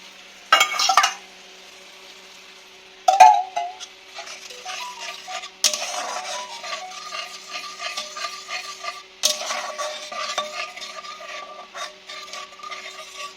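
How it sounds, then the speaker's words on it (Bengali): Hot water goes into a pan of prawn rezala, raising sharp sizzling bursts that settle into a steady bubbling simmer, with a few further pours spaced through the stretch. "এখানে আমি একটু গরম জল অ্যাড করবো"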